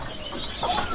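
Caged songbirds, including Murai Medan, in a busy bird market kiosk give faint, overlapping chirps and whistles over a constant hum of market background noise during a brief moment.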